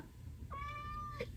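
A single clear meow from a cat, rising then falling, fairly faint over a low background hum.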